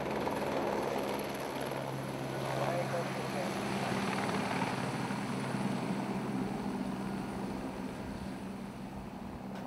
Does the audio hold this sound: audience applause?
no